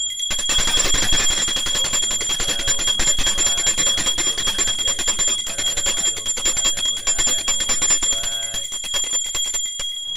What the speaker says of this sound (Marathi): आण इकडे घंटी, आण इकडे.